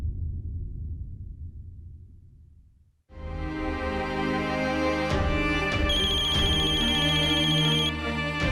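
After a low rumble fades out, an electronic phone ringtone starts playing loudly and keeps going, a bright repeating melody with no talking.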